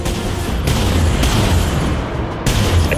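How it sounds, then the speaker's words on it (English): Missile launches from a warship in the space combat game Dreadnought: heavy booming thumps at irregular intervals over a loud, continuous rumbling battle din, with no speech. "Launching missiles."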